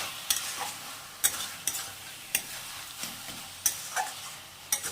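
A pea greens curry with potato, brinjal and beans is stirred in a pan: spaced, crisp scrapes of the spoon every second or so over a quiet background sizzle, close by and without voices.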